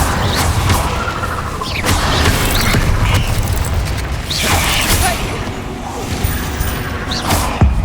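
Magic spell casting in the Hogwarts Legacy video game, with Incendio fire spells bursting amid busy combat effects, repeated whooshing flares and crashes over a constant loud game soundtrack.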